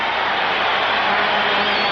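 A packed hockey arena crowd roars continuously at the 1984 Stanley Cup Finals, Islanders versus Edmonton. The cheering is loud and sustained throughout, a dense wall of noise with no clear gaps.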